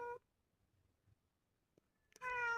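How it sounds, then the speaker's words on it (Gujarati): A tomcat meows twice: a short call at the start, then after a quiet gap a louder, longer meow near the end, close by and alone. "આપણો મીંદડો આવી ગયો છે, તમને દેખાડ્યો"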